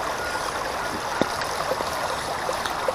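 Stream water rushes and trickles steadily around a WPL C14 RC truck as it drives downstream, a continuous close wash of flowing water with small splashes and no talk.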